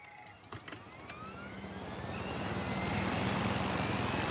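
A helicopter in the video game Far Cry 6 drones with a steady, building rotor and engine roar that swells louder over several seconds, with no talking.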